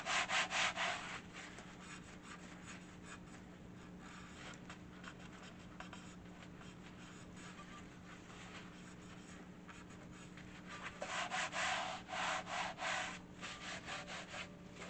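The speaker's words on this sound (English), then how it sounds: "We're going to take some rubbing alcohol, and we're just going to wipe down everything." Surfaces and tools used for cutting handcrafted rebatch soap are wiped down with rubbing alcohol. Quick, close rhythmic rubbing strokes come at the start and again near the end, with quieter handling in between.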